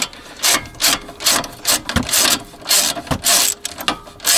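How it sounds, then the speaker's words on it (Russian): Ratchet wrench clicking in repeated bursts while tightening a stabilizer link nut on a Renault Kangoo, with close, crisp ratcheting strokes separated by short pauses. "Не набор, вернее, трещотка."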